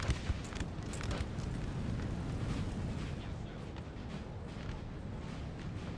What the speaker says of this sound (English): That artillery from HRE, though, really helping out.